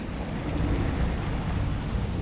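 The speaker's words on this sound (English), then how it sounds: "So we're giving the motor a bit of a workout." A Hallberg-Rassy 54 sailboat motor sailing through waves near St. Barthélemy, with a steady broad rush of engine, water and wind noise holding at an even level throughout.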